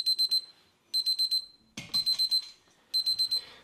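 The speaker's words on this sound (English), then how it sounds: "It is set to 100, and once it passes the temperature, it will alarm you." A ThermoPro TP16 digital meat thermometer sounds its temperature alarm, repeating loud bursts of four quick high-pitched beeps with short pauses, alongside a brief clunk of handling.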